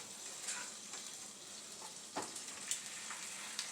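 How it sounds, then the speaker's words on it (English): Fish frying in a pan, a faint continuous sizzle and crackle with a few sharper pops and spatters as the pieces are flipped. "just to play it safe, we're going to give them one more final flip here"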